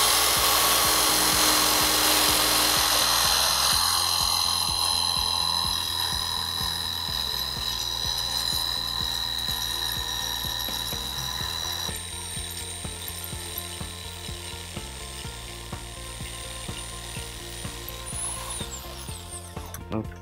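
A power saw cuts through pallet wood clamped across two workbenches, a loud steady motor whine with rhythmic pulsing as the blade bites, easing slightly in pitch and loudness partway through and continuing to the end.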